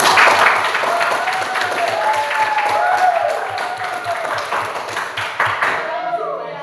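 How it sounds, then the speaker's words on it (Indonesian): A classroom of students claps after a group presentation in a microteaching session, a dense burst of applause that thins out toward the end, with voices mixed in. "Oke, berikan tepuk tangan untuk"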